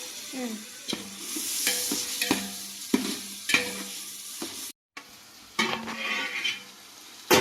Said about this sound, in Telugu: పచ్చి వాసన పోయే వరకు నూనెలో బాగా వేపాల